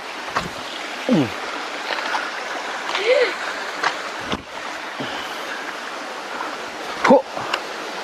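A mountain valley stream flows with a continuous broad rushing wash, heard near and steady, while brief voices and exclamations break in over the water now and then.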